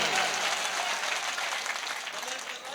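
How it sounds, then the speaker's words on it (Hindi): Applause from a live audience at a mushaira poetry gathering, a dense continuous wash of many hands clapping that stays loud throughout and tapers slightly toward the end. "एक बार जोरदार तालियां बजाइए।"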